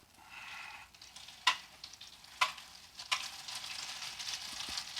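Zucchini and shrimp fritters flipped in a frying pan, three sharp spatula clacks followed by a bright crackling sizzle that swells and keeps going, close-up.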